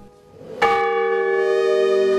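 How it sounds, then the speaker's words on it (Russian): A church bell in a tower is struck once with a sharp, loud clang, then rings on with a rich, sustained, slowly fading hum, and a second strike begins just at the end. "в колокол звонить можно, и он производит довольно-таки хороший такой впечатляющий звук"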